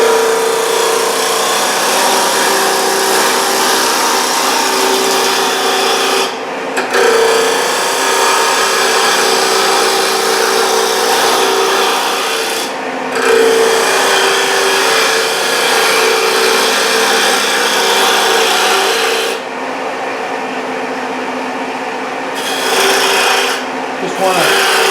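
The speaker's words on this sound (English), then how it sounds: "I've got a 5/8 bowl gouge, so I'm going to use that just to get the material off." A wood lathe spins a mushroom bird house blank while a 5/8 bowl gouge roughs off material, giving a steady, loud rasping scrape that runs continuously with a few brief pauses where the cut lifts.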